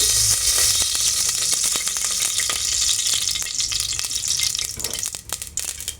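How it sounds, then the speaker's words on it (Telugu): Oil going into a pressure cooker on the stove for country chicken curry, a loud continuous sizzling hiss with crackles and light rattling throughout, no voices. "కుక్కర్ పెట్టేసుకొని ఆయిల్ వేస్తున్నాను"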